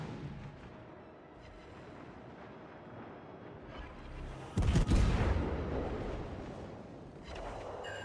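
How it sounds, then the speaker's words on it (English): Warship secondary guns firing during a naval video game battle with the Venezia, a burst of booming shots rising to a loud peak midway, with rumbling rolling through the rest, no talk over it. "My secondaries are shooting."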